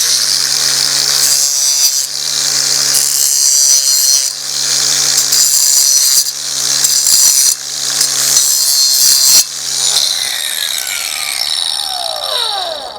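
Plastic model railway track being cut and trimmed, a steady rasping, sawing scrape in repeated strokes with brief pauses between them, close and loud, with a steady hum underneath and a few sharp clicks near the end.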